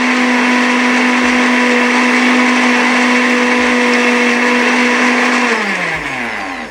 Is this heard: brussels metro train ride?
no